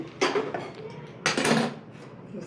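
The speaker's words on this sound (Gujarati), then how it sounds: "આ રીતે આને હલાવવાનું છે જેથી તલ વરી જીરું વરિયારી બધું એને મિક્સ થઈ જાય" Two brief scraping clatters of a spoon stirring sesame seeds, cumin and fennel in a pan, close and separated by a quiet pause.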